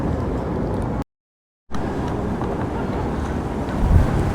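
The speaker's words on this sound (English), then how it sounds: "that's windy" Strong wind buffeting a microphone outdoors in Cambodia, a continuous loud roar that cuts out briefly, then returns with a gust near the end.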